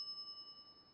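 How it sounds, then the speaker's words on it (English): A shop counter bell in The Secret of Monkey Island gives one faint, bright ding that rings on with a soft, wavering decay, heard alone. "some idiot's already ringing that stupid bell"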